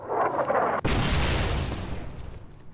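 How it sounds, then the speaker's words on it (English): A heavy blast in the video game Fallout: New California, a sharp crack followed by a deep, loud rolling boom that slowly fades, with earlier muffled rumbling before it. "Yep, explosions, no problem."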